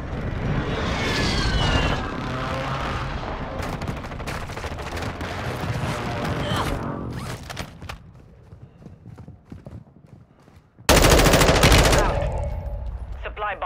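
Combat in Warzone 2 on Ashika Island, with dense bursts of loud gunfire and rumbling blasts, a brief quieter lull, then a sudden heavy crash of noise from the airstrike.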